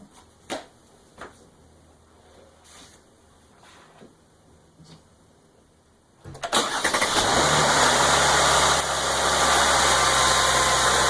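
A V-type car engine with three timing chains, one from an intermediate gear and one to each cylinder bank driving the cams. After several seconds of near quiet with a few clicks, it cranks and catches, then runs loud and steady at a fast idle.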